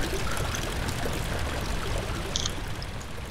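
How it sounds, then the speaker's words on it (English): Water leaks from a loose pipe in the horror video game Amnesia, a steady, hissing pour or stream at low level with no speech. "One pipe is loose and leaking water."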